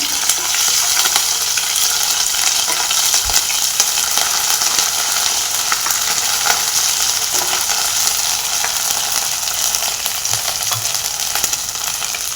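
Ginger garlic paste frying in hot oil for chole, a loud, continuous, hissing sizzle that holds steady throughout, with faint stirring underneath.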